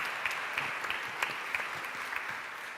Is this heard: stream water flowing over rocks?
no